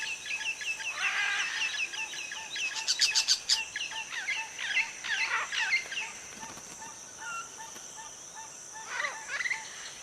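Macaw parrots calling in chirps, squawks and short harsh cries, several overlapping, fairly close, with a busy burst in the middle and quieter calls trailing off, no talking.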